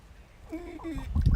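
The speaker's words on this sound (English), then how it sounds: "The chicken decided that it wanted to be on my shoulder." A chicken in a garden, perched on a person's shoulder, gives a few close, soft clucks and murmurs that grow louder toward the end.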